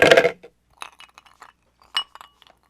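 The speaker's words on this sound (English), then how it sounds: "Let's throw a couple of ice cubes in here." Ice cubes drop into a glass, a loud clattering clink at first and then several lighter scattered clinks and taps as they settle.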